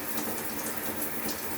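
Water running steadily from an LED showerhead on warm, a continuous broadband hiss of spray close by with no voices over it.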